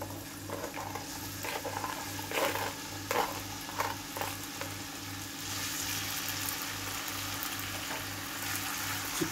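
Small-diced potatoes sizzle and crackle in a hot pan, with a few scraping stirs near the start and a steady frying hiss throughout.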